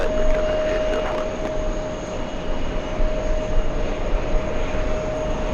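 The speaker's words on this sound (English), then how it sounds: "The A340-300 flying in from Frankfurt." A Lufthansa Airbus A340-300 from Frankfurt passes near an airport lounge, its jet engines giving a loud, continuous roar with a steady whine running through it.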